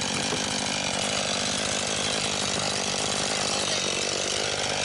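A chainsaw cuts firewood with a continuous, buzzing engine drone and a fast chain rattle, steady and fairly close throughout with no talking.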